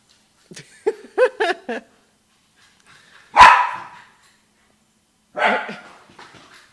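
A dog barks in quick excited bursts, several short yelps close together early on, then a louder sharp bark and another bark-whine a couple of seconds later, with quiet gaps between, indoors after breakfast.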